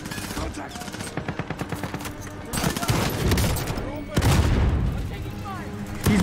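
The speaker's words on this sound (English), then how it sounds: "I'm just hearing so much shooting inside this small ass room." Rapid gunfire bursts and booms in Modern Warfare Zombies, a first-person shooter game, with repeated shots in a small room and players talking over the fighting.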